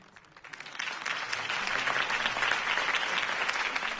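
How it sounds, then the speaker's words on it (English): Cartoon crowd applauding a city campaign speech, clapping that swells quickly from a few hands into steady, full applause and holds to the end. "If only Mr. Wayne, my campaign's largest backer, could have heard that applause"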